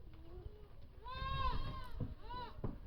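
Goats in a winter farm shelter bleat twice in quick succession, a long wavering call followed by a shorter one, close and clear over low rumbling background noise.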